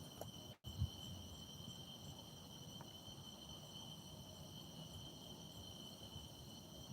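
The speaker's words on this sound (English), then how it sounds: "just hearing all the crickets and stuff, frogs" Crickets chirp steadily at night beside a river where catfish and carp are being fished, a continuous high trill under faint background hum with one brief thump near the start.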